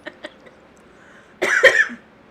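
A man coughs a couple of sharp times in quick succession, close and fairly loud, after a few faint soft sounds.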